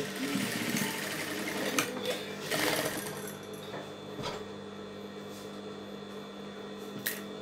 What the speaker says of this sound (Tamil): ஒரு பக்கம் தைச்சாச்சு